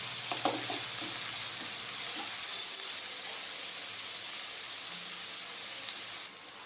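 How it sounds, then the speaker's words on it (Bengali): Chopped onion frying in a pan for a fenugreek-pea malai curry, giving a steady, loud, even sizzle and hiss that runs throughout, with a few faint utensil taps near the start. "পেঁয়াজ কুচিটা আমি হালকা ফ্রাই করে নেব"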